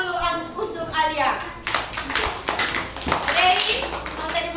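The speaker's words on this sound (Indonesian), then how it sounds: "Tepuk tangan dulu untuk Alia." Children in a fifth-grade classroom clap for a classmate, a short patter of hand claps mixed with voices talking over it in a small room.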